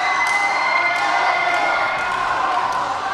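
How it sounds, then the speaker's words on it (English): A wrestling crowd cheers steadily before a match, a loud sustained roar of many voices filling the arena throughout. "They're cheering for him before the match even starts."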